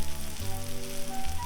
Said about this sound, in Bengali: তেল দিয়ে দিলাম, পেঁয়াজগুলো দিলাম, এখন এটা লাল লাল করে একটু ভাজতে হবে, ভালো করে নেড়ে চেড়ে